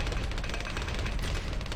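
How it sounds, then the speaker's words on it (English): Cannon towers firing in Bloons TD Battles, a continuous flurry of overlapping booms and pops with no pause, fairly quiet and evenly sustained. "So I'm going to get a couple cannons in here as well."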